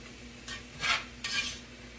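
Onions stirred in a pan on the stove, with a few soft scraping strokes and a faint sizzle underneath, quiet and close with no talking.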